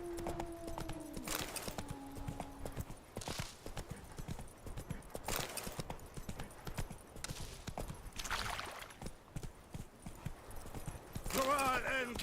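Roach, the horse from The Witcher 3, gallops with steady rhythmic hoofbeats throughout, mixed with in-game ambience and occasional voices talking over the riding.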